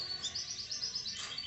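Male pintagol hybrid, a goldfinch crossed with a Belgian canary, singing up close in a cage: a steady run of bright, rapid warbling trills and chirps with a louder burst near the end.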